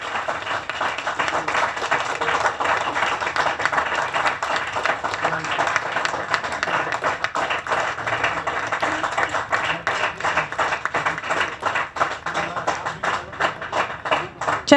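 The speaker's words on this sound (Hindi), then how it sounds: "चंद्रभाष सिंह जी के लिए जोरदार तालियां होनी चाहिए मित्रों।" An audience applauds a stage play's writer-director: steady, dense clapping from a large crowd that carries on loud and unbroken for the whole stretch.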